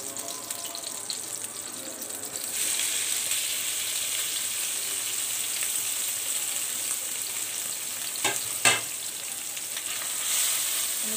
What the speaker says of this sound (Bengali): ছানাটা আগে একটু ভেজে নিই 2-3 মিনিট